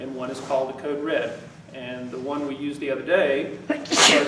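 A sharp sneeze bursts out near the end, loud and brief, while someone speaks steadily at a school parent meeting.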